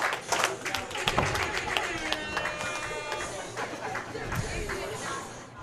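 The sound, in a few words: tennis match crowd applauding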